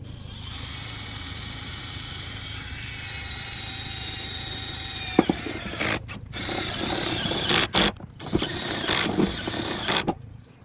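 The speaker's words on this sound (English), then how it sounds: "So I'm gonna go ahead and drill the middle hole" A power drill with a step drill bit whines steadily at high pitch, then grinds and cuts through the metal of a pickup truck cab roof in uneven bursts with brief stops, close by.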